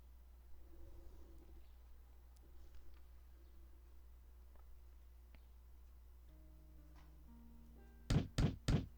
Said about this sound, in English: Someone actually knocking on my front door?